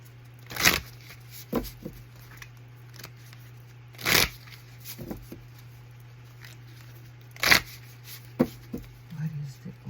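Tarot cards shuffled by hand in a few brisk riffling bursts spaced seconds apart, with softer handling sounds between them over a steady low hum.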